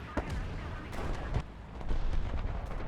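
A booming SU-76D tank cannon shot in War Thunder stands out within constant rumbling battle noise, with other distant blasts and cracks scattered around it.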